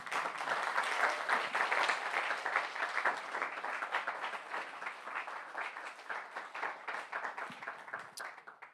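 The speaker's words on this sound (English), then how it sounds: "let's put our hands together to thank all of our donors" An audience at a gala claps to thank donors, dense sustained applause that slowly thins and fades out.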